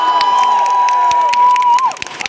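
A crowd at a FIRST Tech Challenge UK Championship opening ceremony cheers and shouts loudly for London, a sustained high whistle or squeal riding over the roar before it drops off and breaks into scattered claps.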